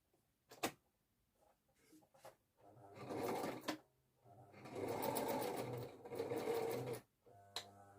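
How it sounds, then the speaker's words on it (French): Sewing machine stitching jersey fabric in three runs of steady rapid needle clatter, separated by short pauses and small handling clicks, fairly close and alone with no talk. "Donc là, je vais vite faire ma couture."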